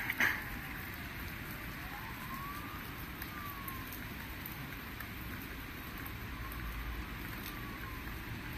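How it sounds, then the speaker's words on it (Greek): Steady, even rain falls during a storm in Athens, a soft continuous hiss with a faint whine drifting past in the distance. The sound is fairly quiet and there is no talking. "Ναι, ρίχνει και ποτιστική βροχή τώρα."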